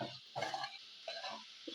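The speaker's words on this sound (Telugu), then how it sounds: "సిమ్‌లో కొంచెం సేపు కార్న్ ఫ్రై అవ్వాలన్నమాట" Sweet corn fries in a pan over a low flame with spices and onions, giving a soft, close sizzle punctuated by brief scraping stirs.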